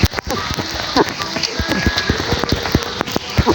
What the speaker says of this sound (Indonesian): Sudah mulai hujan.